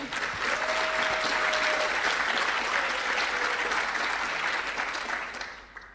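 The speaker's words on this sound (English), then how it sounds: "I guess yes, applause, please." Sustained audience applause fills a conference main room at a Perl programming event, dense and steady clapping from a sizable crowd for several seconds before tapering off near the end.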